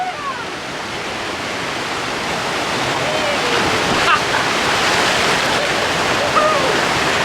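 Glacier meltwater rushes loudly near the Kronplatz area of the Alps in Italy, a steady broadband roar that builds slightly over the clip, with brief voices faintly audible.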